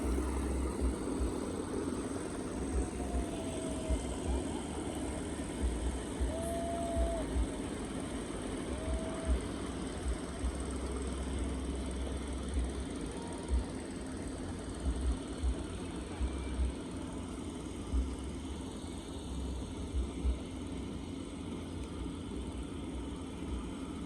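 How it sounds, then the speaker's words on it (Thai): A longtail boat engine drones steadily on the Song River at Vang Vieng, Laos, a faint, low, continuous hum heard from some distance across the water. "นักท่องเที่ยวกับ ขี่เรือหางยาวนี่เนาะตามสายแม่น้ำสองนี่ขึ้นไปเทิงแล้วก็ลง"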